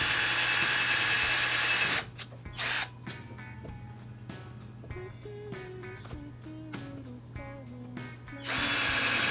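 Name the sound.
power drill driving screws into wood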